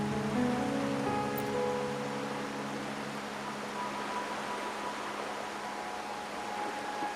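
Rain pouring down in Raguna within a video game, a steady hissing wash of drops without a break, with faint tonal hum from the game's ambience underneath and no voices.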